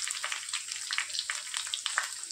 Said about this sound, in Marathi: छान लाल मिरच्यांची फोडणी देते.